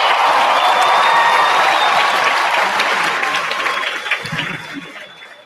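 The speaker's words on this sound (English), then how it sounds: "Can we give one more round of applause to the 6 of us for that amazing performance?" Loud applause and cheering from a high school graduation crowd after a student performance, a dense roar of clapping with whistles that fades gradually toward the end.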